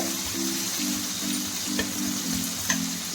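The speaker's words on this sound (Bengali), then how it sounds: "তারপর দিচ্ছি আমি একটু টমেটো কুচি। এটা দিয়ে আমি কষতে থাকবো।" Chopped tomato and grated coconut sizzling steadily in a hot pan, a continuous soft frying hiss with occasional light stirring clicks, no voices.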